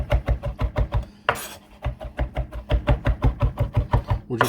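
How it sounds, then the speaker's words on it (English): A knife cutting through doughboy dough on a board, making rapid, regular close thuds, about four a second, with a brief rustle partway through. "run our knife through it here real quick, real simple"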